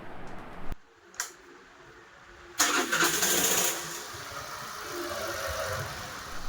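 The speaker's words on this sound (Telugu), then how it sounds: "ఈ స్టెప్పింగ్ మోటార్ ఎప్పుడు క్లీన్ చేసుకున్నా సరే ఈ స్టార్టింగ్ అనేది నార్మల్గా అవుద్ది" A Suzuki Access BS6 scooter with a starting complaint is cranked, with a couple of brief clicks before the engine catches, then revs and settles into a steady idle, close by.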